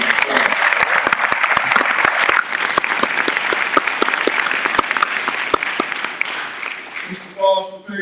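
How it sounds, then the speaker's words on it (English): Audience at a Black History event honoring Clyde Foster breaks into sustained, dense applause, moderately close, tapering as a voice starts near the end. "give Mr. Foster and his family a warm round of applause"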